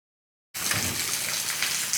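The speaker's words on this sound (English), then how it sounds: "It has been pouring down all day." Heavy rain pouring down outdoors on a pepper farm, starting abruptly after a half-second of silence and continuing as a dense, steady hiss and patter close by, with no voices.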